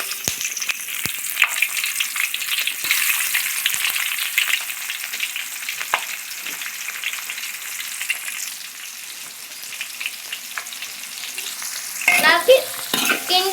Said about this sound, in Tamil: கிண்டிக்குவோம், நல்லா கிண்டுவோம். நல்லா வதங்கணும்.